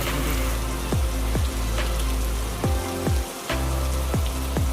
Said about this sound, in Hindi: बारिश देखें कितनी तेज़ हो रही है